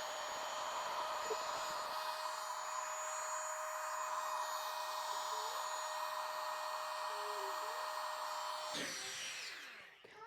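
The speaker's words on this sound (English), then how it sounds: "Now we will grab the vacuum and make sure you have it pressed down nice and tight." A steady, loud motorized whir of a vacuum sucking air from a storage bag, running continuously, cutting off abruptly near the end with a brief rattle.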